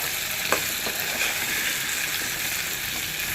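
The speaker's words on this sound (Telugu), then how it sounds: "అది ఇంకా కొంచెం మగ్గాలి టమాటాలు" Chopped tomatoes for kandi pappu pachadi simmer and sizzle steadily in a pan, a soft continuous bubbling hiss with a few small pops, close and alone.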